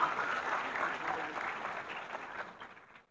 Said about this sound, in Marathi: सर्वांना विनंती की जोरदार टाळ्या करता त्यांचं प्रोत्साहन व्हावूया